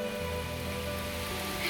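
Steady rain falling in Morningside Park in Toronto, a dense constant patter with no gaps and no voices.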